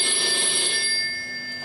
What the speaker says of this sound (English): a telephone which is ringing